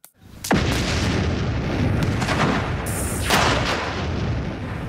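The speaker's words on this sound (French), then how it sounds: "L'explosion de la dynamite était vraiment explosive." A powerful underwater blast of 23 kilos of dynamite hits as a sudden deep boom, then rolls on in a long turbulent rumble and churning water roar, with a second surge of spray noise partway through.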